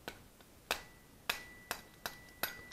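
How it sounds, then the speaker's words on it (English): A rubber hammer knocks a tight part into place on a 600 ESP build, landing about five sharp, close taps at irregular intervals in an otherwise quiet workspace. "This is where you might need get a rubber hammer."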